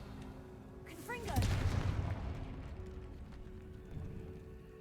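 The Confringo fire spell is cast in the video game Hogwarts Legacy: a whooshing launch builds into a loud fiery blast that rumbles and fades, followed by a softer second thump.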